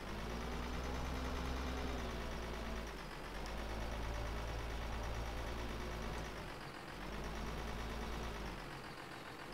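Tractor engine idling in the farming video game Farming Simulator 15, a steady low mechanical drone with a constant hum that dips briefly a couple of times, heard alone without talk.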